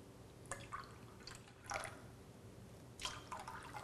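Soda pours into a glass in a few short, faint splashy bursts of fizzing liquid, each kept to about a sip, over a low steady background hum.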